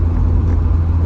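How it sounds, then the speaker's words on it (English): Deep, steady exhaust drone from a Mazda RX-7 FC with an aftermarket exhaust, a low baritone rumble heard continuously while cruising, loud and close with no talk. "this car has a very deep, almost baritone exhaust note."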